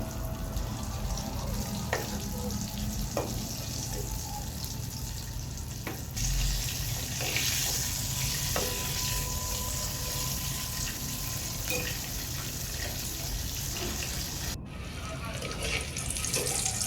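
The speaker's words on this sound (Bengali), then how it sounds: "ডুবো তেলে ভেজে নিচ্ছি। মিডিয়াম হিটে এই সবগুলো চিকেনকে আমি ভেজে নিচ্ছি।" Chicken pieces deep-frying in oil over medium heat for crispy fried chicken, a continuous dense sizzle and crackle filling the whole stretch with occasional sharper pops, close and even in level.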